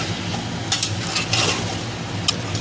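Masala for chicken biryani frying in oil, a steady low sizzle with a few brief stirring scrapes of the spoon against the pot, close by.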